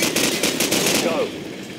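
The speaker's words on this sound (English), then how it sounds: "Flashbang out." A flashbang grenade goes off in Call of Duty 4 during a squad breach, a loud sustained crackling blast with bright hiss filling the short moment, fading slightly at the end.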